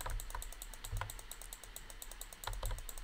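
Rapid mouse clicking during a video game, heard as fast, dense clatters and taps close to the microphone, steady and fairly quiet, with no voices.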